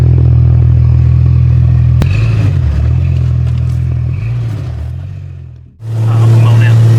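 A worn-out, broken-down Jeep Cherokee XJ rumbles close by as it backs out of a shop, engine running steadily with a clunk and a brief dip in sound before it picks back up.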